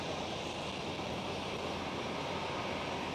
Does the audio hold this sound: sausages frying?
no